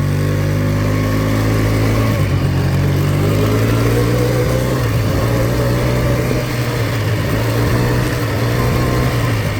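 A four-wheeler ATV engine drones steadily while being ridden, a loud continuous low rumble with slight pitch shifts and no pauses throughout.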